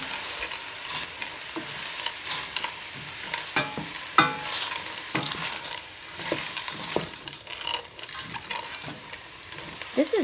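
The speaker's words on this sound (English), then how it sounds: "I'm just going to toss that around to mix in with the vegetables" Frozen corn tossed with celery, onion and carrot in a pan for black bean soup, giving a close sizzle broken by irregular stirring scrapes and clatters, with no talking.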